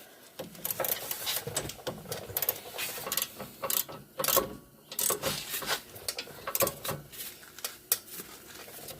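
A ratcheting wrench works on a brake bolt of a 2007 Pontiac G6, giving quiet bursts of rapid clicking and metallic rubbing in an irregular rhythm, close to the listener.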